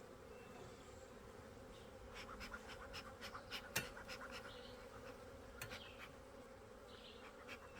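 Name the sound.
honey bee swarm buzzing at the hive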